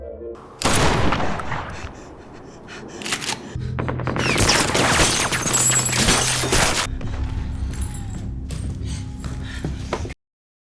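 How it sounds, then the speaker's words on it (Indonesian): Gunfire from outside erupts in a zombie film as shots are fired into a building: sharp broadband bursts and rattling volleys, loud and dense, with dramatic sound throughout and an abrupt stop at the end. "serangan peluru mulai dilesatkan dari luar oleh Ray CS"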